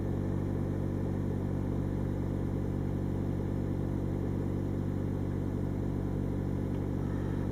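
A car engine runs at steady elevated revs of about 2,500 after a new O2 sensor was fitted, a constant droning hum held evenly throughout, fairly close, with no voices.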